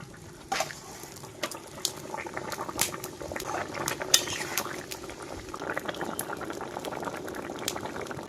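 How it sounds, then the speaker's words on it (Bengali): Fish curry bubbling and boiling in a cooking pot, a steady close simmering texture with occasional louder pops and a few light clinks of utensil against the pot. "তরকারি কিন্তু বন্ধুরা টক করে ফুটছে"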